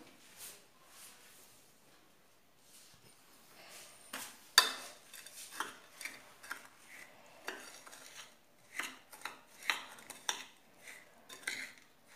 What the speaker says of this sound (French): Je vais leur mettre du beurre fondu. Donc, je vais mélanger.